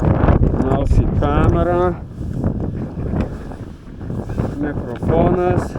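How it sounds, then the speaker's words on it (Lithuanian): Strong wind buffets a microphone outdoors during a scooter ride to a pool, low rumbling gusts throughout, loud and close, with someone talking over it. "vėjas didelis"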